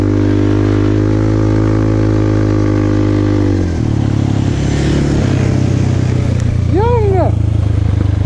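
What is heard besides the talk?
Kymco Maxxer 300 quad engine, rear wheels spinning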